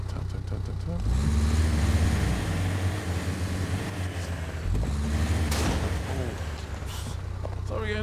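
A truck engine in the off-road video game Expeditions: A MudRunner Game rumbles loudly, rising in two revving surges around a steady idle, with brief clunks between.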